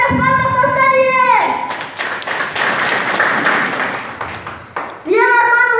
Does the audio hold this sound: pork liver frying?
no